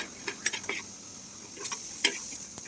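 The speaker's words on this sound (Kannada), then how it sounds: "ನಾನು ಸೆಂಟ್ರಲ್ಲಿ ಕಡಲೆ ಬೀಜಕ್ಕೆ ಕೈ ಆಡಿಸ್ತಾ ಇರಬೇಕು, ಇಲ್ಲಾಂದರೆ ಸೀದೋಗ್ಬಿಡುತ್ತೆ" A utensil scrapes and clinks now and then against a pan as peanuts are stirred while they dry roast. The taps are sparse and close, over a quiet steady background.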